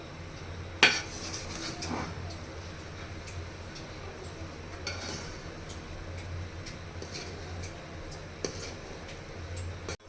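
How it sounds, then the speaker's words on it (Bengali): Beef bhuna khichuri being stirred in a pot over medium heat makes continuous close scraping and metallic clinks of a spoon against the pot, over a low steady hum, with one sharper clank near the start. "আবারও সবগুলো একসাথে একটু ভালো করে নেড়ে নিব।"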